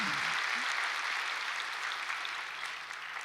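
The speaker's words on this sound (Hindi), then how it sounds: "ताली तो बजाओ जरा" An audience at a spiritual gathering applauds. The dense, steady clapping fills the room and fades a little toward the end, with a brief voice at the start.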